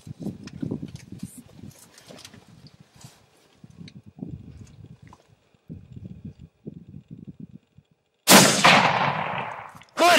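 A single loud rifle shot rings out during a buck hunt, sudden and close, following quiet rustling, footsteps and muffled movement, then trailing off into an echoing tail.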